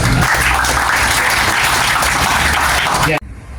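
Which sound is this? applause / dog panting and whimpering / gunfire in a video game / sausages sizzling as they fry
applause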